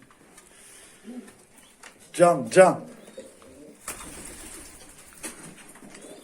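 A male silver-tailed kanat posta pigeon gives a brief, close double coo amid soft rustling, while a person murmurs quietly nearby.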